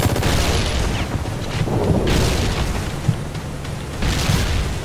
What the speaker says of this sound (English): A little mech is shooting at me.